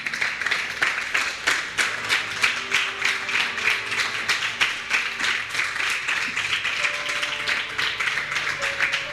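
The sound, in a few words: audience applauding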